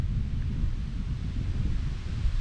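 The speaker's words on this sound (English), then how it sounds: "Very windy coming through here." Strong wind gusting through Red Bank Gorge in the West MacDonnell Ranges, a steady low roar buffeting the microphone, close and continuous with no voices.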